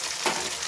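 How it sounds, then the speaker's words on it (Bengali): Pabda fish frying in oil in a wok over low heat as the pan is shaken, giving a steady, close sizzle with a brief swell of louder crackle partway through. "কড়াইটা নাড়িয়ে এইভাবে"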